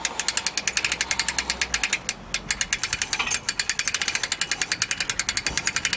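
A boat trailer's winch raises a multihull's mast with a rapid, regular mechanical clicking and ratcheting. It is loud and close and keeps going steadily, with a brief pause partway through.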